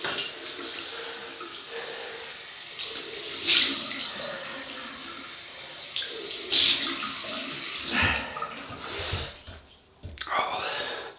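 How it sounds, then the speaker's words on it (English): Tap water runs and splashes for a cold rinse during a classic wet shave, a soft continuous flow broken by several louder splashes, with brief quiet talk nearby. "Cold water rinse."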